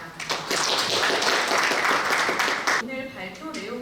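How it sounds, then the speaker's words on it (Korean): Audience applause for presenters at a mechanical technology policy conference, a short burst of clapping that swells quickly, holds for about two seconds, then cuts off as a voice continues. "박수 부탁드리겠습니다"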